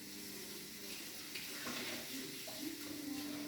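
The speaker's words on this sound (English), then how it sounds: "Put the water on my veggies here." Tap water runs over vegetables at a kitchen sink, a faint, steady hiss and splash that brightens midway as the stream hits the produce, with no speech.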